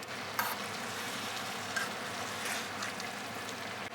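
Vermicelli, vegetables and sauce sizzle and hiss steadily in a frying pan for a pork and shrimp stir-fry, with a few soft stirring scrapes against the pan.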